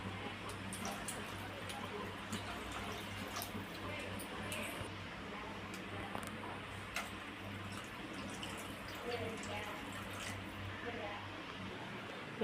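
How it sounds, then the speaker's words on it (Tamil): Water being poured into a tamarind-based sankara fish curry in a cooking pot, a soft, steady watery trickle and splashing running quietly throughout under a low hum, with faint drips and small clinks. "மீன் குழம்புக்கு தேவையான அளவு தண்ணி சேர்த்துக்கிறேன்"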